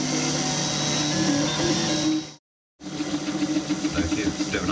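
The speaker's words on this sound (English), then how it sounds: "My Flashforge Dreamer, I'm printing a spare part" A Flashforge Dreamer 3D printer whirs and hums steadily with tonal motor whines while printing a microwave turntable part at 100% infill, broken by a brief cut to silence partway through before the machine noise resumes.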